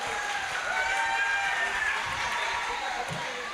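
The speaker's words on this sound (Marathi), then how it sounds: "गोविंदराव गुडेवार यांचा सत्कार होत आहे सर्वांनी टाळ्या वाजव" Steady wash of audience applause at a Marathi kirtan felicitation during the Shravan month, a dense, continuous clapping crowd at even loudness throughout with faint murmuring underneath.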